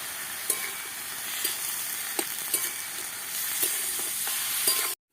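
Spinach frying in a pan with salt and turmeric while being stirred, a steady close sizzle punctuated by regular spatula scrapes and taps, ending in a sudden cut.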